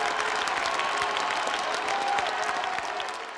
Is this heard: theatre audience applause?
yes